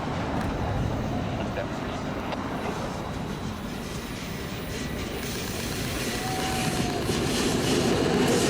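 Union Pacific Big Boy 4014 steam locomotive climbing Donner Pass: a loud, continuous mechanical rumble and rolling rail noise, steady throughout with a brief tonal squeal partway through.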